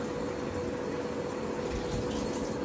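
Water pours steadily from a tap into a pot holding eggs, a close, continuous rushing fill with a faint tonal hum underneath and no voices.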